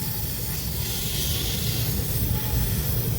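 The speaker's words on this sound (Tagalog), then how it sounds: "Ayun, may lumalabas sa Freon, ang lakas." Freon 134a refrigerant escapes from the tubing of a Fujidenzo refrigerator during compressor replacement, a loud continuous close-up hiss that holds steady throughout.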